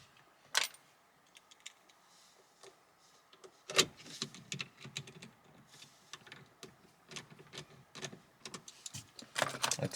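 Two T20 screws being driven back in by hand while reassembling a phone mount inside a VW MK5 car; scattered faint clicks, scrapes and taps of a screwdriver and plastic trim, quiet and close, with no talking.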